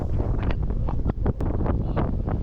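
Strong outdoor wind buffets a microphone in loud, continuous low rumbling gusts with brief dips, and no voices are heard.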